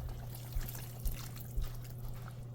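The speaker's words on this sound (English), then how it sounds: "I'm going to pour in about another half a cup of water" Water pours gently into a pot of onion, potato and tomato curry with a faint continuous trickle, a few soft thuds, and a steady low hum underneath.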